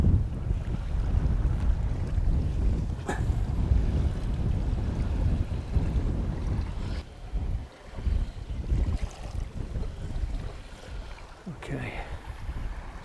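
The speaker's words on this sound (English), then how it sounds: "The wind's just getting stronger and stronger at the moment." Strong wind buffets the microphone outdoors at a reservoir during carp fishing, a heavy, continuous low rumble that dips briefly now and then.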